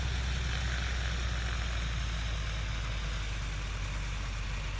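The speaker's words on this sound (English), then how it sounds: "We got engine start, check our oil pressure, and we do have oil pressure." Aircraft piston engine idling just after start-up in the MSFS 2024 flight simulator, a steady loud low rumble with an even throb that stays constant throughout.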